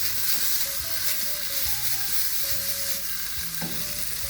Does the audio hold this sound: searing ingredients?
yes